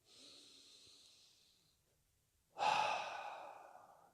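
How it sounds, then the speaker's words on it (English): Deep breathing during a calming meditation, one soft slow inhale followed after a pause by a louder, longer breathy exhale, close and alone. "Just breathing."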